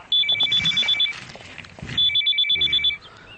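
Electronic telephone ringtone trilling in two clear bursts, each a rapid series of bright repeated beeps, with faint movement sounds between and after them and no talk.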